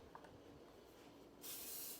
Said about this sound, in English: I'm going to spray the pan